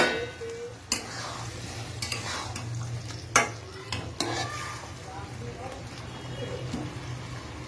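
Fried cabbage balls tumble into a pan of vegetables for cabbage manchurian, with steady stirring and light sizzling broken by a few sharp clinks of a utensil against the pan, close and moderately loud.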